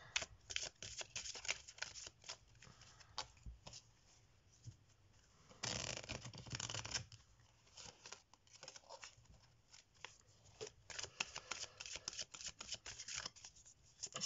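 Tarot cards being shuffled by hand at a table for a love-compatibility reading, a dense run of quick papery riffles and slides with a louder burst midway, close and fairly quiet, no talking.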